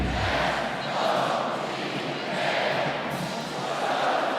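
A sellout crowd of about 5,700 cheers at a Wisconsin at Minnesota college volleyball match in an arena, a dense, steady wash of roaring voices that swells slightly and stays continuous throughout.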